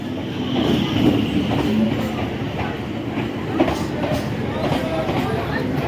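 A crowded local train on the Namkhana line pulls into a station on the Kolkata to Bakkhali route, making a steady, fairly loud rolling rumble with faint voices mixed into the background.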